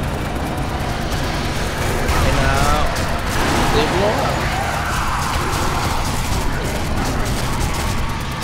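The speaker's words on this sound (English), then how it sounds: "go start shooting at the zombies" Shooting at zombies in the video game Sniper Elite: Nazi Zombie Army 2 sounds as a steady, dense rattle of gunfire and game noise running throughout, with loud peaks mid-way and people talking over it.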